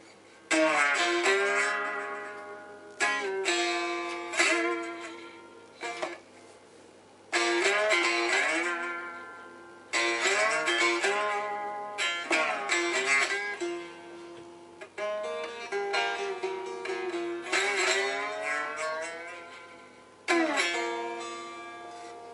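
A homemade three-string cigar box guitar with a blacksmith's nail bridge and a spoon-end tailpiece plays amplified phrases of plucked and strummed notes, each phrase ringing and fading before the next begins, close and clear.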